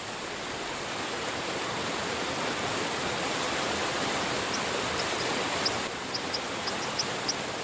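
Strong currents of the Deva river rush in a steady, dense roar, close and continuous with no pauses, like a fast torrent in a mountain valley.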